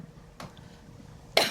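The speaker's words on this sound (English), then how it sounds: "it's making me cough when you speak about it" A single sharp cough bursts out near the end, following a fainter throat sound a moment earlier, close and alone in a quiet room.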